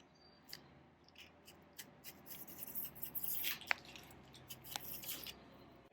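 Sharp razor slices through Hydro Turf deck matting for a 14 ft jon boat, giving quiet soft scratching strokes and small crisp snips, faint and close with no talk.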